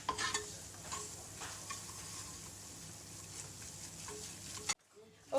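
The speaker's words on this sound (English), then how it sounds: "while this roux is cooking up here" Roux sizzles and frying in olive oil in a pan, a steady soft crackle with stirring scrapes throughout, ending in near silence with a brief knock at the end.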